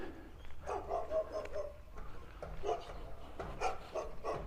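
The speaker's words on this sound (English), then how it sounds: "The dog bounding towards the fence." A dog barking behind a fence on a residential street, a series of moderately distant barks in irregular bursts over a low outdoor background hum.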